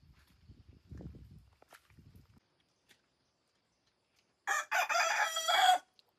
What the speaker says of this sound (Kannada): ಕೋಳಿ ಮತ್ತೆ ಕೂಗ್ತಾ ಇದೆ.